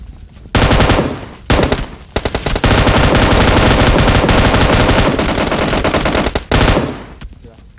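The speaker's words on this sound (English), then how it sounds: "Someone is shooting from the back side." Loud, close bursts of rapid automatic gunfire in a shooter game, several sustained volleys separated by brief pauses, dominating over any other sound.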